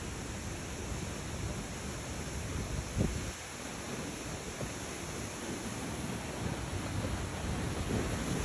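Water crashes down steadily at Taytay Falls beside a river, a dense roaring wash mixed with buffeting wind noise on the microphone, with no talking.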